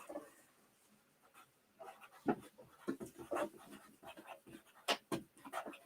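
A pen scratches across paper in short, uneven strokes, close and fairly quiet, with brief pauses between bursts and no talking.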